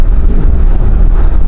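Strong typhoon wind buffets the microphone in a steady, low roar, loud and unbroken for the whole moment.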